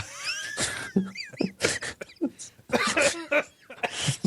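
Several harsh, close coughs and throat-clearing bursts from someone recovering from a cold come in quick irregular succession, with brief gaps between them.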